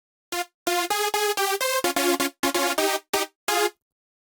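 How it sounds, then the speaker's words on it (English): Trance-style synth chords, played as a series of short, bright, sharply cut stabs in an uneven rhythmic pattern, loud and dry with silent gaps between hits. "I just made these chords, so it sounds like this"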